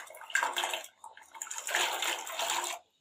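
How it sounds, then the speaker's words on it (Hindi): Radishes tipped into an open pot of boiling water, giving two bursts of splashing and sloshing of water, close and fairly loud, with a short pause between them. "इसमें सबसे पहले मैं ये मूलियाँ ऐड करूँगी"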